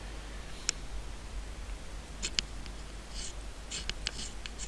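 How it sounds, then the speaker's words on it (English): Sparse, quiet keyboard typing during work on a Unity water shader in C#, a handful of light clicks scattered through low steady background hiss. "Oh, I'm tired of typing here."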